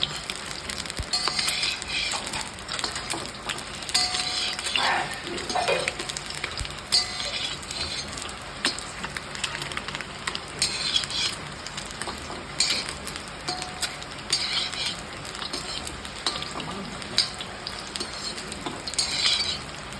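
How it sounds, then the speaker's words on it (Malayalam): Scored boiled eggs fry lightly in a pan for a Kerala-style egg curry, with a soft steady sizzle and occasional clinks and stirring of a utensil against the pan throughout. "മുട്ട ചെറുതായിട്ടൊന്ന് വരഞ്ഞിട്ടുണ്ട് എന്നിട്ട് നമ്മൾ ചെറുതായിട്ടൊന്ന് മൂപ്പിച്ചെടുക്കാം"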